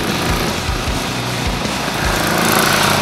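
A Royal Enfield Bullet 500 single-cylinder four-stroke motorcycle engine pulls in a roll-on acceleration, with a loud, steady thumping drone and rhythmic low pulses that hold close throughout.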